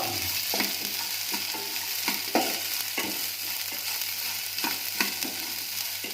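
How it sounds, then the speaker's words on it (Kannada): Okra stir-fries in hot oil with mustard seeds, cumin and curry leaves, giving a steady close sizzle broken by regular scraping taps of a spatula against the pan. "ಎಣ್ಣೆ ಸಾಸಿವೆ ಜೀರಿಗೆ ಕರಿಬೇವು ಹಾಕ್ಕೊಂಡು ಬೆಂಡೆಕಾಯಿ ಹಾಕ್ಕೊಂಡು ಹುರ್ಕೋಬೇಕು"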